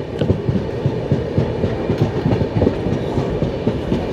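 The Howrah–Dhanbad Black Diamond Express passes nearby, loud and close, with a rapid, rhythmic clickety-clack of wheels over rail joints and a heavy rumble throughout.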